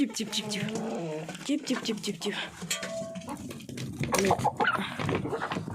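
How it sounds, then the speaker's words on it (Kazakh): Hens cluck and squawk close by in a busy, overlapping chorus as they come out of the coop, with a human voice mixed in at times. "Тауықтарым бәрі шығып жатыр."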